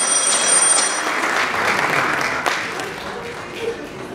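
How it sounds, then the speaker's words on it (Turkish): An audience at a film gala night claps in a dense, sustained burst that gradually thins and fades toward the end, with a few scattered louder claps near the close. "Daha yüksek bir alkışlar lütfen."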